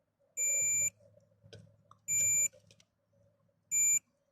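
Multimeter continuity test on a VW Golf/Jetta Mk5 radio wiring, giving three separate high-pitched steady beeps, each lasting about half a second, with quiet handling noises between them.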